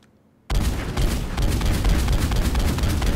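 Full-auto fire from the Striker assault rifle in Mass Effect 3 bursts in after a short silence and keeps going as a loud, dense, unbroken rattle of rapid shots.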